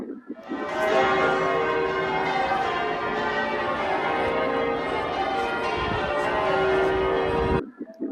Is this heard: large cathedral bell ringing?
yes